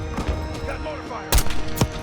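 Mortar and gunfire booms in Call of Duty: Black Ops 6, several heavy thuds and blasts over background combat noise, with a voice speaking amid the explosions.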